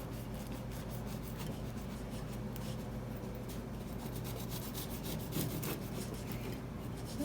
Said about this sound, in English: It sounds like it's a crispy flaky crust.